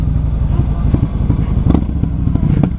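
A 1900cc Yamaha Raider motorcycle engine running while being ridden, a loud, close, low pulsing rumble with an uneven throb and occasional sharper knocks.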